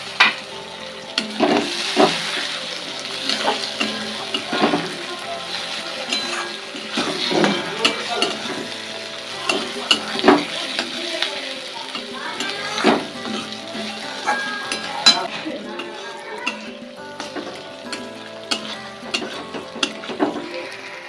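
Chopped tomato sizzling in a pan for a chana masala gravy, with frequent scraping stirs and clinks of a utensil over a continuous frying hiss, some faint tap water in the background.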